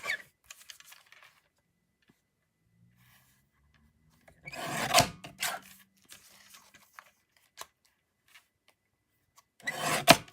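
Piece of card being trimmed for card making, two bursts of close scraping and cutting with a few light taps between and near silence elsewhere.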